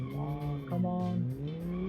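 Rear tires locking and skidding on a car in a driving video game, a sustained tonal squeal with a steady engine drone underneath, loud and continuous for the whole stretch.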